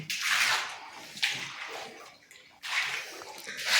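Repeated splashes of water thrown onto a cowshed floor to clean it, three rushing bursts a second or so apart, close and fairly loud.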